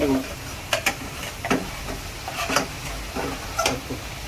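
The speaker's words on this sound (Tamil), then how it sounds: "பட்டை பட்டை கிராம்பு கிராம்பு போட்டிருக்கோம் ஏலக்காய் போட்டுருக்கோம்" Cinnamon, cloves and cardamom fry in a pan for a crab curry, a steady close sizzle broken by several sharp spoon taps and scrapes at regular intervals.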